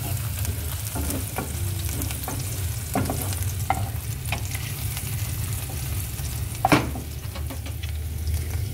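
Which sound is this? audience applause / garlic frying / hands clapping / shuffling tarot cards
garlic frying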